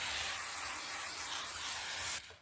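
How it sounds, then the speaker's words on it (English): A steady aerosol spray hisses close up onto a gasket on a Farmall Model A tractor's drive cog oil sump, one continuous burst that cuts off near the end. "Give them a bit more of a spray."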